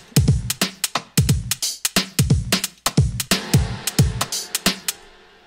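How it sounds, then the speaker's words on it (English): Drum loop in Ableton with a snare whose reverb send is automated to throw bursts of Hybrid Reverb wash, repeating sharp hits with swelling reverberant tails in a steady rhythm, loud and upfront with no talking. "I've just put a couple automations here for the send knob to make snare bursts, right?"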